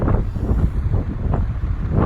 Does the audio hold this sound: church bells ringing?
no